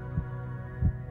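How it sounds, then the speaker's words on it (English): Pounding heartbeat, deep low thumps over a steady hum, two or three beats in quick succession, close and prominent. "Love and fear can both get the heart pounding."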